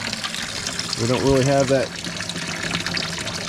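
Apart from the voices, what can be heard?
water pump running, water flowing from tap at campsite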